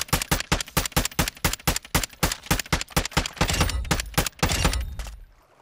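Rapid bursts of automatic gunfire in the video game Warzone DMZ, a dense string of loud, evenly spaced shots from a nearby weapon, with heavier booming blasts near the end before the firing cuts off.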